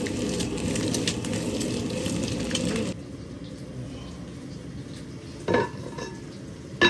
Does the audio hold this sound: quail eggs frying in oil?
yes